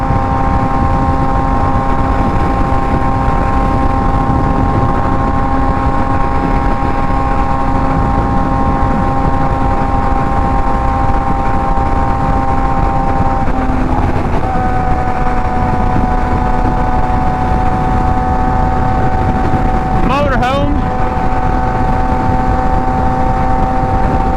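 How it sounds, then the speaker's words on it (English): A motorcycle running at highway speed down an expressway, its engine droning in a steady loud tone under constant wind roar, with brief pitch shifts midway and near the end. "I think we all know damn well this bike will do over 90."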